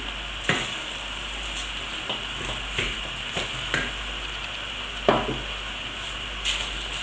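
Thinly sliced onions frying in a pan for a pork curry, with a continuous sizzle broken by regular knocks and scrapes of a wooden spoon stirring them.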